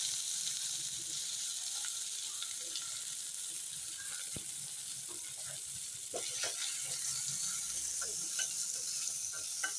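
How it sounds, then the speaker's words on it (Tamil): Onions sautéing in oil with fennel seeds for a prawn gravy give a steady, close sizzle with occasional clinks and scrapes of a stirring spoon against the pan. "வெங்காயம் வச்சு நல்லா வதக்கிக்கலாம்."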